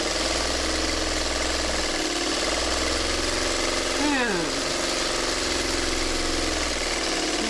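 A sewing machine stitching a quilt runs in a steady, continuous mechanical whir with a rapid rhythmic chatter, close and constant, while someone talks over it.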